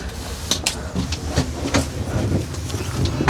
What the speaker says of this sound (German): Wow, was für ein geiler Zug.